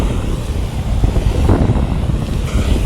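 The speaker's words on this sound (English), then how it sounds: "the wind is blowing away from me, not blowing towards me" Wind blowing outdoors, loud rough gusting buffets against the microphone in a continuous low rumble.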